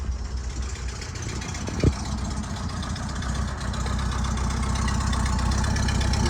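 1968 VW T2 Westfalia camper with a 1600 air-cooled engine, single carburettor and dynamo, starting with a brief crank and catching, then settling into a steady, rumbling idle close by.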